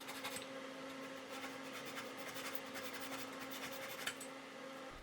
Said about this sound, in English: I use this Japanese saw to get it flush with the rest of the wood